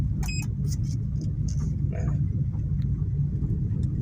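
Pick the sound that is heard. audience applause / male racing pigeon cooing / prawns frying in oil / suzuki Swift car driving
suzuki Swift car driving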